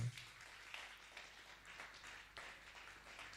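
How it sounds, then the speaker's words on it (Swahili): A church congregation applauds in a steady, dense patter of many hands clapping, somewhat distant and fairly quiet, with no talking over it. "Piga Yesu makofi mengi tena."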